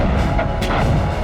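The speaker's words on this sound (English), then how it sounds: "he unleashes a massive artillery barrage" A massive artillery barrage at the Battle of El Alamein in October: heavy booming blasts and rumbling thuds that overlap in a dense, loud wall of gunfire.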